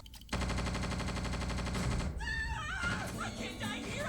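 Fake anime gunfire made by smacking plastic bottles rattles in a rapid burst of sharp pops, like a machine gun, followed by an excited voice over the scene.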